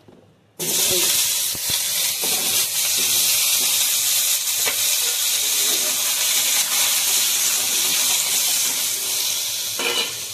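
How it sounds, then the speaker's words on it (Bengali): Potatoes frying in hot oil in a wok, with a strong, steady sizzle that starts abruptly as they go in and continues throughout, with faint stirring scrapes. "এবার কড়াইতে দেবো একটু তেল, আমি একটু তেল দিলাম। এবার এই আলু ভেজে নেব।"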